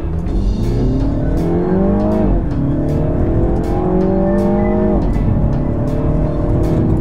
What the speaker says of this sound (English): one more 0 to 60 run. This time I'm going to brake torque it a little bit, give it a little bit of turbo spool.